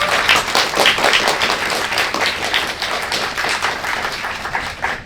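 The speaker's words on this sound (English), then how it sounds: "Round of applause for my team." An audience at a science exhibition talk claps in sustained applause, a dense, loud patter of many hands continuing for several seconds.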